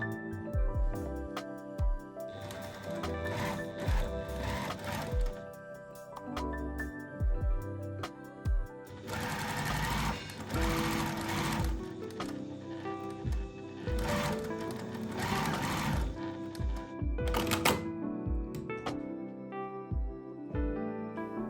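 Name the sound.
sewing machine edge stitching a skirt hem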